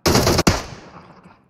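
Loud, close machine gun fire in a first-person shooter game: a dense burst with a brief break, then another blast trailing off into a decaying echo.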